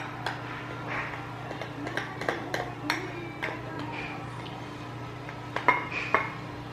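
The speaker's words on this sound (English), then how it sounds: "Just keep stirring." A spoon scrapes and clinks against a bowl while a thick, gluey food mixture is stirred, making irregular light taps and scrapes over a low steady hum nearby.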